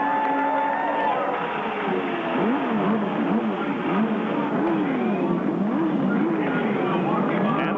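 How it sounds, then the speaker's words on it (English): Race car engines fire up together across a 25-car field at the Milwaukee Mile, a continuous loud roar with rising and falling revs blending into one dense wall of sound, with crowd noise faintly beneath. "this is what it looks like as the engines start here at Milwaukee."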